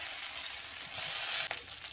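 Onion, bay leaf, ginger, garlic and turmeric fry in oil in a wok, a close, continuous hiss that swells briefly, then a quick stir or clatter and the steady sizzle carries on, without speech.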